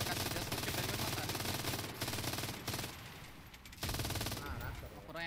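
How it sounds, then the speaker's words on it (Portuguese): Gunfire in the World War II shooter Enlisted, with a Sdkfz 234 Puma armoured car in play: near-continuous, loud bursts of automatic fire, a brief lull, then more rapid shooting, with players talking underneath. "Caraca, tanto tiro passando em mim, velho."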